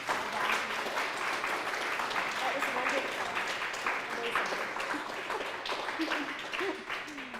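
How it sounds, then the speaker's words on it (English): An audience at an art lecture on Cape Cod gives Rosalind Pace a steady round of applause that fills the whole stretch, and a voice speaks briefly over the clapping. "Let's have another round of applause."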